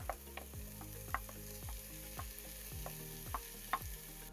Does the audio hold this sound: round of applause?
no